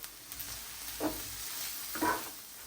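Chicken and mushrooms sizzle quietly in a pan with a little butter, a couple of soft stirring scrapes breaking through the steady frying hiss.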